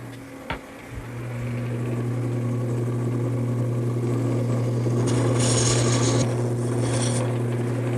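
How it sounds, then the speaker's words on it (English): Wood lathe turning a bed post while a small gouge cuts beads: a steady motor drone runs throughout, with brighter hissing cutting bursts near the middle and again toward the end. "now I'm going to use a small gouge and create the beads"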